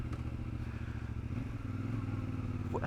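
A CF Moto 450MT motorcycle rides at low speed with a steady, close engine drone and wind rumble, throttle held gently and a faint rattle over the top.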